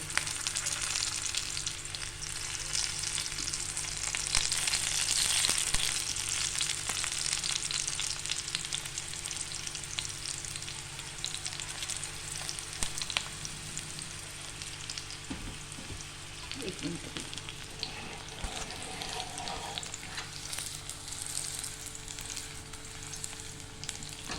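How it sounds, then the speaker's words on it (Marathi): Green pea cutlets fry on a low flame, giving a continuous, moderate sizzle with faint crackles and occasional light clatter throughout, with no voices over it. "आता आपण ह्यांना फ्राय करून घेऊया गॅस कमी आहे बारीक गॅसवर आपण फ्राय करतोय"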